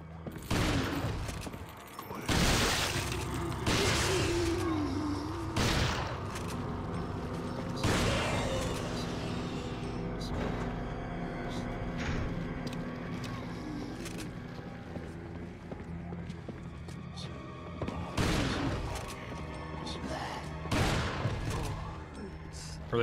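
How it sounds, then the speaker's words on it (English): Repeated shotgun blasts in the video game Resident Evil 4 against cultists, a string of loud, sharp booms spaced irregularly over a busy background of game sounds and mechanical clatter. "How many shotgun shells do I have to load into you, cultists?"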